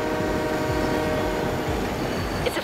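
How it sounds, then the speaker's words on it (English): A heavy freight train rolls past in Forza Horizon 3, a steady loud rumble of rail cars with rhythmic low clatter throughout, nearby and continuous, with a brief higher squeal near the end. "It's a freight train."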